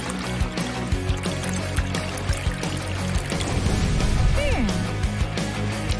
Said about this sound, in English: take it and pour it inside a face mask mold